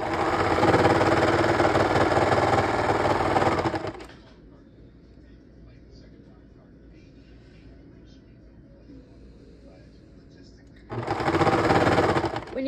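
A sewing machine runs in a steady, loud whir while stitching a pinafore seam, stops for several seconds of quiet room tone, then starts stitching again near the end.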